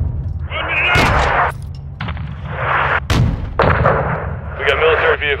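Loud, dense gunfire from Call of Duty: Modern Warfare 2 (2022), with repeated rifle bursts and booming shots in an urban battle near a soccer field, continuing throughout with brief gaps and heavy low thumps.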